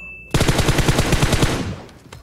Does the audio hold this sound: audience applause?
no